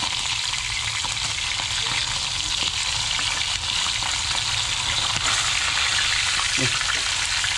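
Galunggong fish frying in hot oil, a dense continuous sizzle and crackle that stays loud and close throughout with no break.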